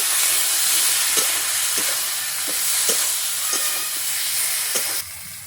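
Boiled potatoes stirred into spice paste frying in oil, a loud continuous sizzle and hiss broken by regular scraping strokes of a spoon against the pan.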